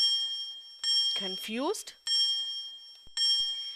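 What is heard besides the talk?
electric bell ringing in an animated science video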